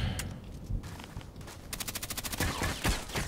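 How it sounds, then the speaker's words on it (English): Enemy gunfire in a shooter game, a brief shot early on, then a pause, then a rapid automatic burst of evenly spaced shots and a few more scattered cracks, moderately loud with no talking. "there's one guy shooting from the right side"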